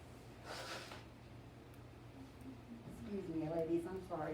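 A single harsh cough bursts out early in a radiology lecture, close and fairly loud, followed by a person speaking in the same room.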